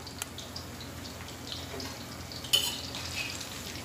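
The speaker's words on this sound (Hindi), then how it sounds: "और तब तक हम चला लेंगे हमारे बरूलों को" Barule frying in a pan being stirred, a soft steady sizzle with a few scrapes and light clinks of the spoon, one sharper knock partway through.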